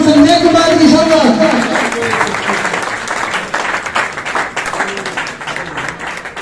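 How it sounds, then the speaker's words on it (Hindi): Loud audience applause and clapping fill a ceremony hall at a New Year event in Rohtak, steady and dense throughout, with a voice speaking over it at the start. "एक बार जोरदार तालियों के साथ"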